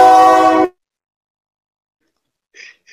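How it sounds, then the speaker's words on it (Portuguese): A horn, heard as a train horn, blares loud and close in one short, brassy blast, then cuts off into near silence with a faint sound at the end. "Bela buzinada, hein?"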